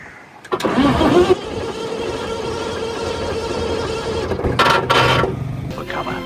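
An engine cranks and catches, then settles into a steady running roar, with a brief burst of revving near the end.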